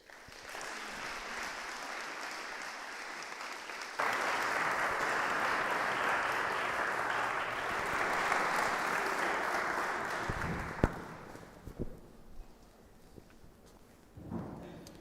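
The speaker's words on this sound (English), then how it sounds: "Please let's have a round of applause." A large crowd applauds loudly and steadily for several seconds, then the clapping fades out into a few scattered claps and quiet room noise.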